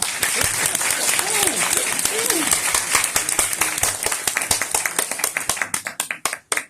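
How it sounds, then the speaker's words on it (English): A lecture audience applauds with dense, steady clapping that thins into scattered individual claps near the end, with some voices under it. "Let's give him a big round of applause."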